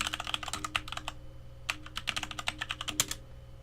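Quick bursts of keystrokes on a computer keyboard as a terminal command is typed, close and fairly quiet, in two clusters of rapid clicks separated by a brief pause.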